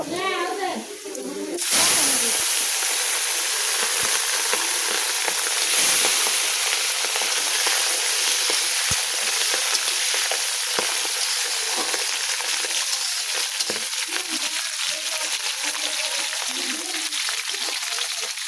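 Vegetables frying in a hot pan, a constant bright sizzle that bursts up after a moment of quieter talk and carries on steadily, with faint voices and occasional utensil clicks underneath.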